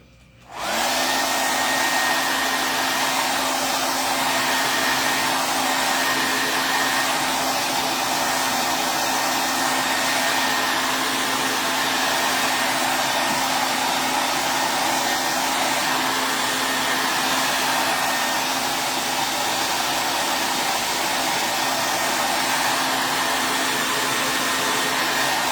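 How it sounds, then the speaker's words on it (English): A hair dryer switches on and runs steadily, blow-drying a painted wooden house cutout craft piece; a loud, continuous whooshing roar with a steady whine that holds unbroken throughout, with no talking. "Blow dry this."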